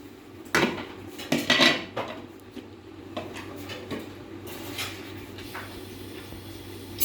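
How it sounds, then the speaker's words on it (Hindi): A kadai wok set down on a stove, with sharp metallic clanks and knocks of cookware and utensils up close, followed by softer handling clatter; no one speaks. "अब मैं कढ़ाई ले लिया, चूल्हे को ऊपर रख दिया है।"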